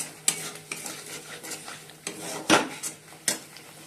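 Spices and Kashmiri chilli stirred in oil for chicken chaap, a utensil scraping and tapping the pan in sharp irregular strokes over a soft sizzle, close and moderately loud.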